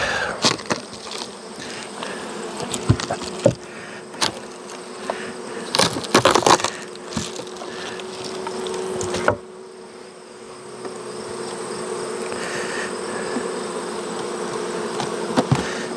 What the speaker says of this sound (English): that bee stung me right in the shoulder blade where I can't reach